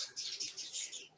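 Birds sing outdoors on a sunny backyard terrace in spring, a quiet run of high chirps and twitters repeating over a soft background, with no voices.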